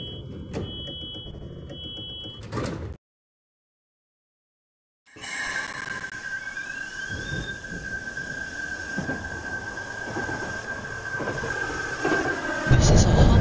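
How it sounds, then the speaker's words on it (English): Train pulling out of a station in a Roblox game, heard as a steady rising electric motor whine with rumbling wheels after a short gap of silence, beginning with a door or chime tone and growing louder toward the end. "The train is about to depart."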